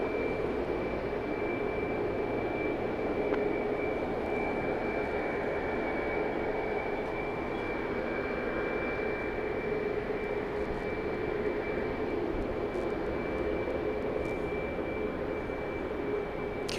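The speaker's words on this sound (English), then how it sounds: "Southwest Flight 40 to Midland, Texas is approaching takeoff position." A Southwest airliner at Dallas Love Field rumbles steadily as it approaches takeoff position, a continuous jet-engine roar with a thin high whine, heard from a distance without talk.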